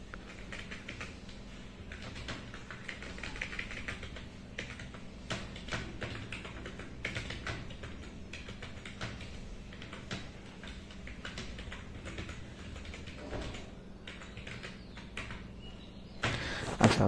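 Fingers tap on a computer keyboard in a quiet room, a long run of light, irregular key clicks with a slightly louder clatter near the end.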